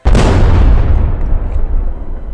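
A single huge explosion effect, used as a sound cue during a tabletop game, booms in suddenly with a deep rumbling blast that slowly fades over two seconds, with no talking.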